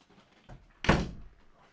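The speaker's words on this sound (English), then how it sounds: "My kids don't know how to close doors." A household door is shut with a single solid thud, preceded by a faint softer knock, then quiet settling afterward; no one talks.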